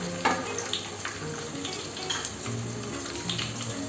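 Onions, garlic, shallots, fennel seeds, curry leaves and spices frying in a pan for a Kerala chicken curry: a steady, close sizzle with faint scraping as they are stirred.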